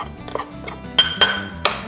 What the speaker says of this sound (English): Let's stir all this in together.